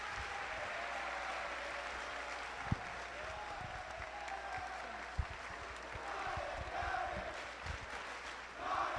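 Audience applause at a general session of a summer youth civics program as a senator finishes his speech, steady broadband clapping from a large crowd with a few sharper claps, sustained for the whole stretch.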